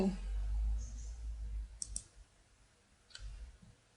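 A computer mouse gives a couple of faint, sharp clicks while the Deco Tool is being chosen in Flash CS6, set against a quiet room hum.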